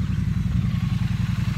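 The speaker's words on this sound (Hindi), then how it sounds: "my bike is getting warming up" A Royal Enfield Interceptor or Triumph Street Twin motorcycle engine idles while warming up, a close, steady, rhythmic low throb with a fast, even pulse and no talking.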